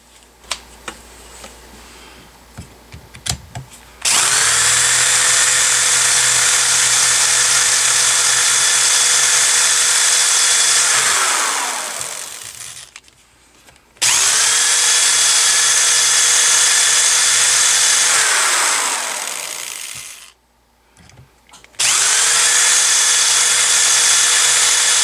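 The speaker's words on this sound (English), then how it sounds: "you have to remove those by using a 3/16 drill bit." A loud power drill with a 3/16 bit whines steadily through metal pins on a Saiga 12 shotgun in three long bursts, spinning down between runs, with quiet handling noises before the first.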